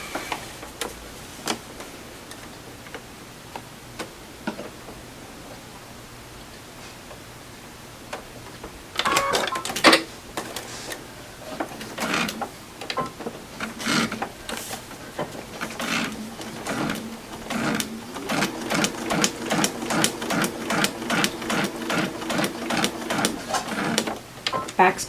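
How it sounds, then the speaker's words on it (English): A sewing machine stitches a seam line across a log cabin quilt block, running in steady bursts of rapid mechanical ticking that start after a quiet stretch and keep going loud and close to the end. "I'm sewing the line right under number 8."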